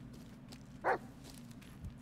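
A dog in the Blair Witch video game gives a single short bark near the start, set against a low, steady ambient hum, with faint footsteps around it.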